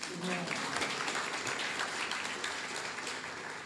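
Audience applause for a team at a memorial book release ceremony, a faint sustained patter of clapping in a hall, with some voices mixed in.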